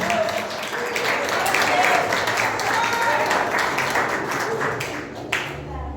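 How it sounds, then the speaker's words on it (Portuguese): A church congregation applauds loudly during a sermon, a sustained wash of clapping from a large crowd that fades toward the end, with a voice speaking over it. "Se você está entendendo, aplauda muito forte, Jesus"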